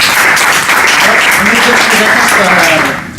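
Audience applause closing a workshop on disruptive technologies for local governments, a steady broad wash of clapping filling the room, with a voice speaking briefly over it.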